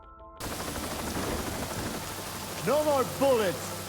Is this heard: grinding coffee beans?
no